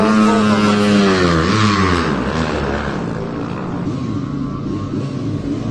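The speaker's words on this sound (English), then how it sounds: "We've only got a few light bikes left to leave the grid and a lovely looking Moto 3 machine here, Tom Snow." A Moto3 lightweight racing motorcycle leaves the grid at the Manx Grand Prix, a loud, high engine whine rising through the revs close by and then fading as it pulls away.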